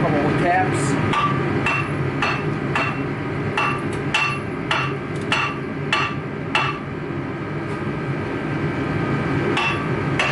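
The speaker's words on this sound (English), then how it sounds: "Get yourself a big hammer, give it a couple of taps." Big hammer striking a worn front brake rotor during a brake job, a series of sharp metallic whacks at irregular intervals, some in quick pairs, loud and close, with faint talk in the background.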